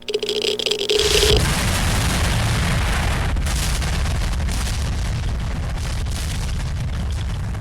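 A sudden loud boom of a nuclear base explosion in Roblox Brookhaven erupts after a quiet second, followed by a sustained heavy rumble and roar that fills the rest of the clip.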